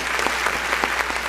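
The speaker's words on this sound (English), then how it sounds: "Everybody, just give a little applause right now for George." Audience claps during a morning talk show, a brief burst of dense, steady applause heard alone, fairly loud and close.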